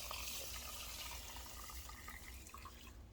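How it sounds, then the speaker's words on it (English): Water runs and splashes into a pan holding two cups of quinoa, a steady, close pouring rush that slowly eases off toward the end, with no voices. "So with 2 cups of quinoa in a pan, you're going to add 4 cups of water."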